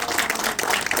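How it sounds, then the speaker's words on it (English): Brief burst of audience applause at a high school ribbon cutting ceremony, a dense patter of many hands clapping at moderate volume. "A round of applause, please."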